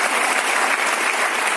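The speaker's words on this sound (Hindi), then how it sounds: "तो एक बार चाहूंगी जोरदार ताली मेरे सभी अप्लाइज के लिए।" Loud, dense applause from a crowd honouring colleagues at a Smart Value lead-24 program in Delhi, a steady wall of clapping filling the whole moment with no break.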